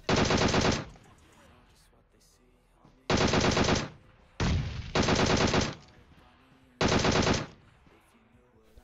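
Four long bursts of rapid automatic gunfire in the video game PUBG Mobile, loud and close, with short quiet gaps between them.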